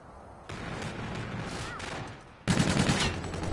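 Call of Duty gunfire crackles in a rapid fusillade of overlapping shots, with a louder burst near the end, over a busy game mix and faint talk.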